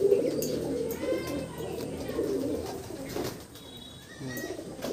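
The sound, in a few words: pigeon cooing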